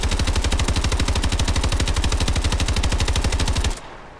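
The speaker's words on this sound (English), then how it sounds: "And here is the 666 RPM for the smoke and mirrors" The XMG Smoke and Mirrors variant in Call of Duty Advanced Warfare fires in one loud, unbroken automatic burst at 666 rounds per minute, its rapid even shots lasting nearly four seconds before stopping abruptly into a quiet tail.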